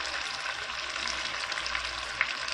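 Rice cooking liquid boils steadily in a pot for mustard-style rice, giving a close, continuous bubbling hiss with a few small pops and no voices.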